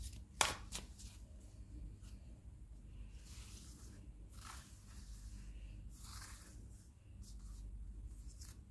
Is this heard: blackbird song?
no